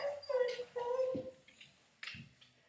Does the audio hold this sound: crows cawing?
no